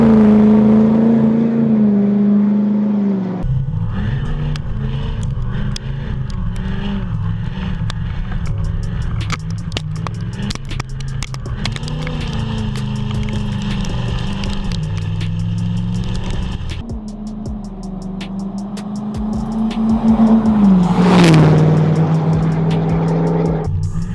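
A Ford truck fitted with a 5-inch stainless straight pipe exhaust, loud and close, rumbling at idle, then revving and pulling away with a deep, sustained engine roar throughout.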